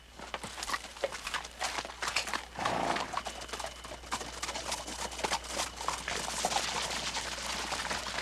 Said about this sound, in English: So let go of the horse.